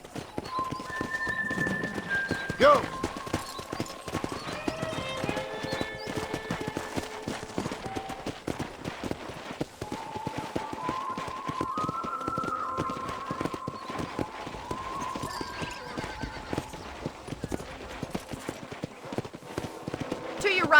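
Horse hooves clip-clop in a rhythmic gallop while riding in the Western video game Red Dead Redemption. They run steadily under ongoing dialogue, a shouted command and music, with a whinny near the start.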